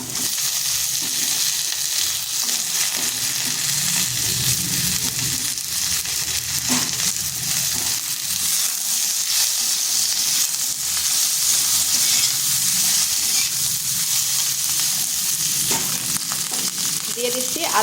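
Potatoes and cut flat beans sizzle in a pan with frying oil, a continuous crackling hiss with occasional stirring scrapes, close and steady throughout.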